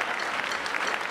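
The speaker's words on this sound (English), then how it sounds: "Give him a round of applause" A comedy show audience claps in a dense, even wash of applause, close and full for a short burst. No cheering stands out from the clapping.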